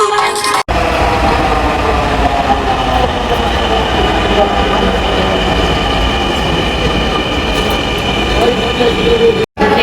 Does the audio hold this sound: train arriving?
yes